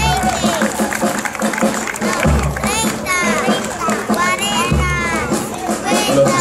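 Spectators at a Lima scout parade applaud and cheer a passing scout group amid a lively outdoor crowd, with children's voices, shouts and a loudspeaker announcer talking over the noise.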